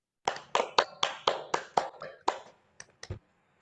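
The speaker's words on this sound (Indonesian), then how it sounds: "kita berikan tepuk tangan untuk masing-masing kelompok" A short burst of hand clapping in a classroom for each student group: about ten sharp, evenly spaced claps close by, then a few scattered final claps as it fades.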